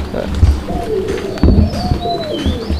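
Madrasi and Raj-golla pigeons coo softly and close by in a brief run of low, throaty calls, with a person talking over them.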